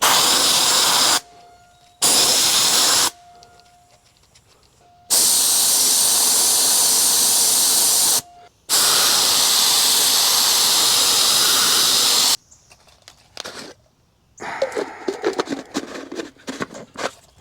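Spray gun spraying Bill Hurst paint on a 1965 Dodge Coronet 500, sputtering and blowing chunks: four loud, steady hissing bursts, each several seconds long, separated by short silences, with quieter scattered noise after the last burst.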